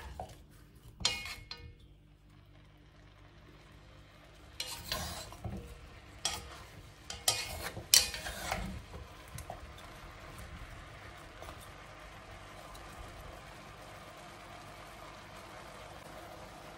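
Carrots frying with beef in a pot for boeuf bourguignon, a quiet steady sizzle broken by several sharp clinks and scrapes of stirring utensils against the pot.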